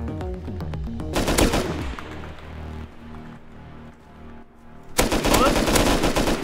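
Gunfire in the survival video game Rust: bursts of rapid automatic shots crackle loudly from about 1 to 2 seconds and again from 5 seconds on, over a dense game soundscape with a steady rumble between the volleys.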